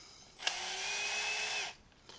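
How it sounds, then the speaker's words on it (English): A power drill drives hex screws into a 3D-printed filament spool holder with 688 bearings for a Prusa MK2/MK3 printer. One steady whirring run lasts over a second, close and clear, and is framed by brief clicks. "I actually press down while I'm drilling it in"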